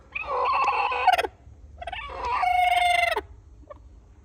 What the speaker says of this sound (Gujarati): એક કુકડી આપણે અંદર છે.